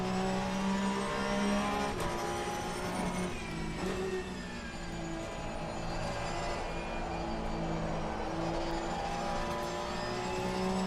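A Porsche GT3 race car engine in the racing game Assetto Corsa Competizione drones steadily with a strong harmonic whine, its pitch rising and falling through gear changes across the lap, loud and continuous with no talk.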